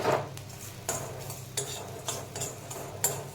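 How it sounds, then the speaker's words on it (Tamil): Rock salt, curry leaves and asafoetida dry roasting in a pan, giving a run of light scraping and clinking strokes from stirring, spaced irregularly and fairly quiet, with no one talking. "கல்லுப்பு கருவேப்பிலை கொஞ்சோண்டு பெருங்காயத்தூள் இது மூணும் எடுத்திருக்கேன் அதையும் போட்டு ஒன்று வறுத்துக்கலாம்"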